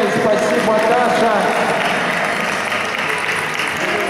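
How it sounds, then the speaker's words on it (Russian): Audience applause at an awards ceremony for a competition review, a steady wash of clapping filling the room throughout, close and fairly loud, with a voice talking over it. "Аплодируем!"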